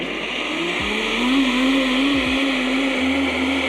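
High-speed blender whirring steadily as it purees soaked rice, almonds and cinnamon for coconut horchata, a loud, even motor whine with a slight rise and dip in pitch.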